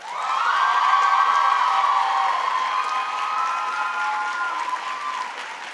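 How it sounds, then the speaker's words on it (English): A commencement crowd at Barnard College in 2012 breaks into sustained, loud applause with cheering and whoops, a broad roar of clapping that holds steady and slowly fades. "So please give them a big round of applause."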